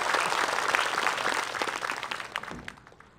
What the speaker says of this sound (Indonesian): Tepuk tangan buat Ustadz Syam